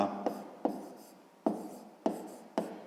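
A pen writes an angle's label in a fifth-grade math exercise, five sharp, distinct strokes landing in an uneven rhythm up close, each fading quickly, with no talk over them.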